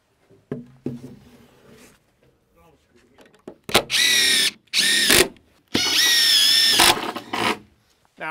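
Power drill driving screws into temporary porch purlins on a barndominium build, several loud whirring bursts of a few seconds each, close by, with faint talk and knocking beforehand.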